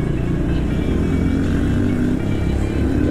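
A motorcycle rumbles past on the road, a steady, loud, close engine drone with low throbbing and a slight rattle throughout the short stretch.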